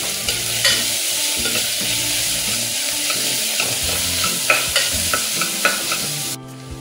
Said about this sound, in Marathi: मिरची, कांदा थोडा तळून घ्यायचं।